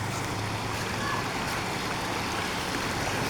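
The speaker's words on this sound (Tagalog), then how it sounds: "Medyo malalim. Lakas po ng agos." A strong current rushes in a deep river as a Toyota Vios car crosses it, giving a continuous, even wash of water noise with a faint low hum and no talk.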